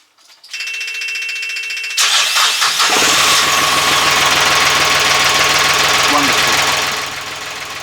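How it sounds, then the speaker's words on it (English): A car engine cranks and catches, then runs loudly and steadily right up close after its alternator belt has been re-tensioned, with a busy mechanical clatter that eases slightly near the end. "I'm just going to run the engine one more time because it sounds lovely"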